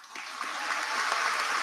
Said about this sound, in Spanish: Entonces eso merece un aplauso.